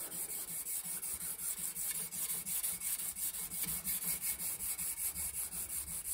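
Belt sanding a wrought iron and CruForgeV san mai chef knife blade at about 400 grit, with a steady abrasive hiss and rubbing strokes pulsing back and forth at a regular rhythm, close by with no talk.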